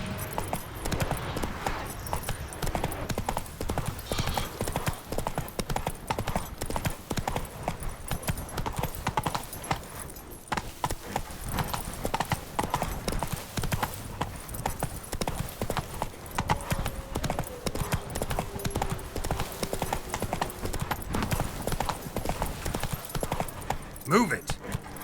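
The horse Roach trotting in The Witcher 3: Blood & Wine, a continuous rhythmic clip-clop of hooves close by throughout, with speech over it.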